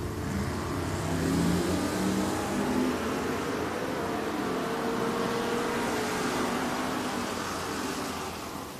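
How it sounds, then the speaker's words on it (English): Drag racing cars at a drag strip, a 1975 Corvette and a 1978 Monza, roar with a loud, sustained engine drone and revving throughout, with no speech over it. "Sammy Jeter in the 75 Corvette, dial 628. Jackie Price coming up in the 78 Monza"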